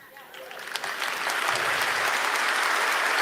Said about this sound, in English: Look how much applause this shit got.